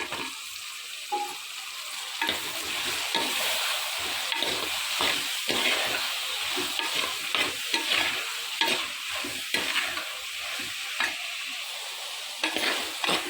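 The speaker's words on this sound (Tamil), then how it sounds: "கத்திரிக்காயும் முருங்கைக்காய் வதங்கிடுச்சு." Eggplant and drumstick pieces sauté with tomatoes in a pan for a kuzhambu, a continuous sizzle broken by frequent rhythmic scrapes and clacks of stirring, close and alone without talk.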